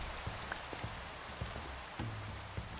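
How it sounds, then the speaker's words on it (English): Rain patters in a swamp inside a video game, a soft steady hiss of falling water with scattered drop taps, faint and alone. "I don't know why the rain is so loud."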